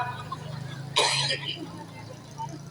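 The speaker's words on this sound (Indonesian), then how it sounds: "coba batuk pak" A single short cough or throat clear during a sermon in Gorontalo cuts through a low steady hum, with faint murmuring around it.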